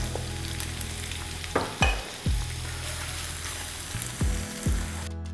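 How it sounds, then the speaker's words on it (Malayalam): Chopped garlic and onions frying in butter in a pan, a steady close sizzle broken by several sharp stirring scrapes and clatters. "ഗാർലിക് ഒരു ലൈറ്റ് ബ്രൗൺ കളറായി കഴിയുമ്പോൾ ഇതിലേക്ക് ചോപ്പ് ചെയ്തെടുത്ത 2 സവോള നമുക്ക് ഇതിലേക്ക് ഇടാം."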